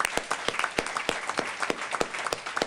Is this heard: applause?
yes